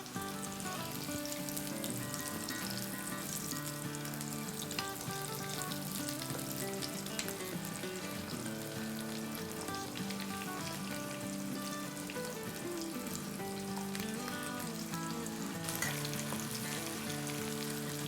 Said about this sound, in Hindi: हमारी कोशिश ये है कि कम से कम ऑयल में ये अच्छे से फ्राई हो जाएं